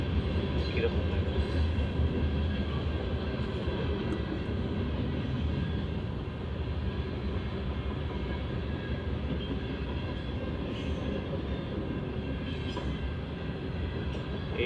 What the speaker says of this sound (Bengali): এই ট্রেনটা কিন্তু অনেক লম্বা, দেখতে কিন্তু কিরকম লাগে